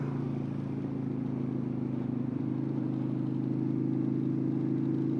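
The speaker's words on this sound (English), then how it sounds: "it mostly sounds like it's got straight exhaust on it" A motorcycle with a straight exhaust drones steadily throughout, a low throaty rumble with a slight rise in pitch as it rides along, loud and close.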